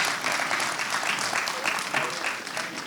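Audience applause at a 20th anniversary community event, a dense, steady wash of many hands clapping throughout, fairly loud and continuous with no break.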